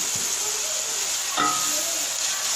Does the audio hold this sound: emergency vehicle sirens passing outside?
no